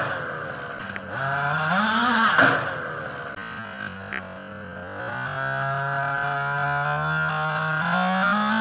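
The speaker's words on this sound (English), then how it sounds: "Gentlemen drag races, HPI Baja with studs." An HPI Baja RC car fitted with studded winter tires drag races in the snow, its small engine whining up and down in pitch with repeated revving surges, fairly close and heard alone.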